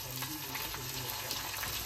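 Green chillies frying in a hot pan, giving a continuous soft sizzle with faint stirring underneath, close by and without speech.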